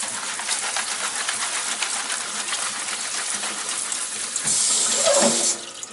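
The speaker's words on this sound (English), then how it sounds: "grabbing a strainer and putting all your potatoes in there, and just run the water and rinse it" Tap water runs steadily over potatoes in a strainer, a continuous broadband rush that holds even for about five seconds, then swells louder and brighter near the end as the flow or the splashing changes.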